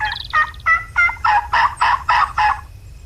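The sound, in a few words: wild turkey gobbling in video game Turkey Hunting Unlimited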